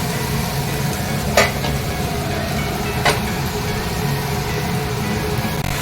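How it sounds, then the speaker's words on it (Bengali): Chicken sizzles in a pan of spiced masala with Kashmiri red chilli powder and turmeric, a dense steady frying hiss with two brief sharp clinks of a utensil, loud and close. "এখন আমি চিকেনটা দিয়ে দিয়েছি, চিকেনটা দিয়ে তার অনেকক্ষণ আমি কষাবো।"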